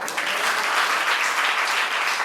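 An audience at a youth meeting breaks into steady, loud clapping that holds evenly throughout without a break.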